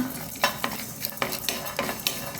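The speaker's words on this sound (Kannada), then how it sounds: "3/4 ಸ್ಪೂನಿನಷ್ಟು ಜೀರಿಗೆ ಮತ್ತು ಒಂದು 4-5 ಮೆಂತೆ ಕಾಳುಗಳು ಇಷ್ಟನ್ನು ಹಾಕಿ ಸ್ವಲ್ಪ ಹುರಿದುಕೊಳ್ಳೋಣ" Cumin and fenugreek seeds roasting in an iron pan, with a soft dry sizzle under sharp, repeated scraping and clinking strokes of a spoon against the metal, close and fairly quiet, no talking.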